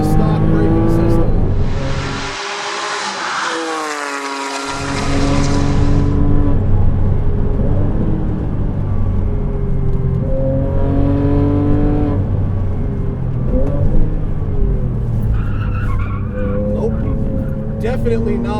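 A turbocharged 2007 Porsche Cayman S engine drones and revs on a racetrack, loud and close throughout, with a brief burst of higher whooshing noise and shifting pitch as it pulls, and a voice talking over parts of it.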